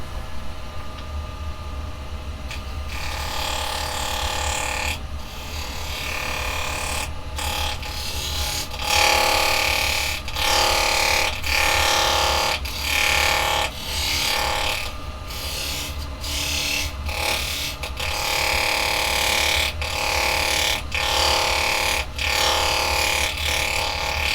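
Carbide detail chisel cutting a wooden bangle spinning on a lathe, a steady scraping, rasping drone broken by short rhythmic catches and pauses as the tool meets the workpiece, close and fairly loud with no talk.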